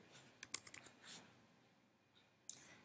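A few quick clicks on a computer keyboard while a name is entered, faint and sparse, followed by a pause and one more sharp key tap near the end.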